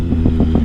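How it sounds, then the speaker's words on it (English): A 2005 Triumph Sprint ST with a low-mileage engine idles loudly up close, its exhaust giving a few rhythmic pops and crackles over a steady rumble. "Lovely bit of pops and crackles out the back."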